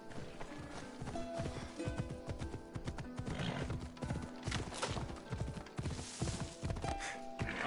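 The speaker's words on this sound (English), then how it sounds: "This horse ain't afraid of anything" Horse hooves clip-clop steadily at a trotting pace in Assassin's Creed Odyssey, with a brief whinny and light ambient background, fairly quiet throughout.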